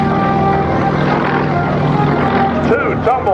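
Propeller aerobatic competition airplanes perform at an air show, a loud, continuous droning engine roar that wavers slightly in pitch, with a voice briefly audible near the end.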